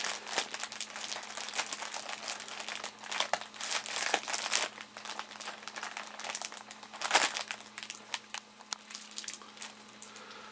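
Plastic bag holding an animal hide in a mayonnaise and egg tanning mixture being squeezed and pressed to push the air out, with continuous close crinkling and crackling of plastic and sporadic louder crunches over about ten seconds.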